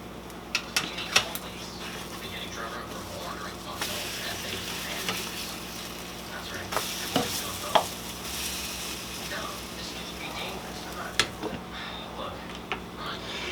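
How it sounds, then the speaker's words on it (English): Eggs cooking in a pan for French toast made with Texas toast, a soft steady sizzle with scattered clinks and taps of a utensil against the pan, and some talking over it. "I'll cook the rest of the eggs"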